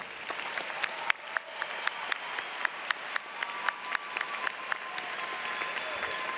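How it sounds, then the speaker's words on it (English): Commencement audience applauding honor graduates at an August ceremony: steady, dense clapping from a large crowd running throughout, with sharper individual claps popping out at a regular pace above the wash. "Will the audience please join me in applauding the achievements of these honor graduates?"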